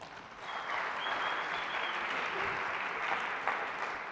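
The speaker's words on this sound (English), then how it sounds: "Please give me a round of applause for Iceberg Systems" Audience applause for Iceberg Systems at the MIT $100K Entrepreneurship Competition launch event fills the hall, a dense, even roar of clapping that swells quickly and holds steady without talk.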